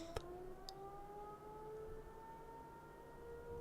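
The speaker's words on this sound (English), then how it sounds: "I don't know if y'all can hear the siren outside" A siren heard from indoors, faint and distant, a steady sustained wail with slowly shifting pitch that runs throughout, joined by a couple of brief clicks near the start.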